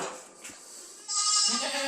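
Goats bleat close by in a farm pen, a short low call followed by a louder, brighter bleat that carries to the end.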